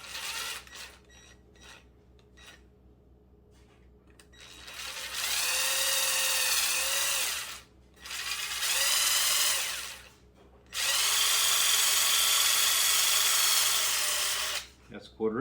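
An electric drill bores a 1/4 inch hole for a custom LED dashboard indicator in an 84 CJ7, three loud whining runs of a few seconds each with brief pauses between, preceded by clicks and handling noises.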